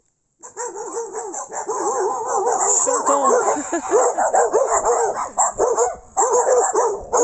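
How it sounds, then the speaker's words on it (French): Several dogs bark and yip in a busy, overlapping chorus, with whimpers mixed in, close and fairly loud throughout; a person talks over the barking. "Salut les chiens, salut les toutous."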